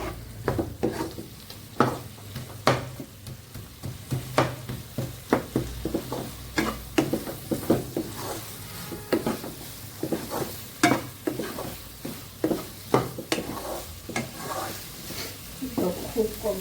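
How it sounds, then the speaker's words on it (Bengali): Masala with three green chilies being sautéed in a pan for paneer kofta curry, a steady sizzle with repeated sharp scrapes and clinks of a stirring spoon against the pot. "বেশ কিছুক্ষণ কষিয়ে নিব এটা।"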